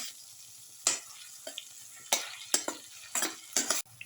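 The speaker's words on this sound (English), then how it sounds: "Let the egg mix thoroughly with the vegetable mixture and let it cook." An egg and vegetable mixture cooking in a pan, a soft background sizzle broken by repeated scraping stirs of a utensil against the pan, irregular strokes close up with no voices.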